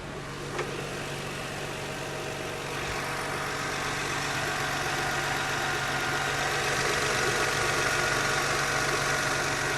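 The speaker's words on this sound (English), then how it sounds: "You can hear the valves ticking away in there." A car engine idles steadily up close, a continuous low rumble with a faint fast ticking of the valves running through it.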